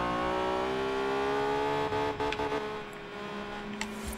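Car engine in Forza Horizon 3 holding steady high revs, a continuous droning tone with a few brief crackles partway through.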